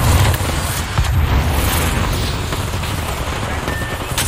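Heavy gunfire and booming impacts in an Apex Legends battle, with dense, loud rattling bursts at the start easing into a constant rumbling wash of combat noise.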